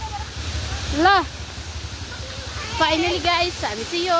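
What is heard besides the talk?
waterfall, Chharchhare waterfall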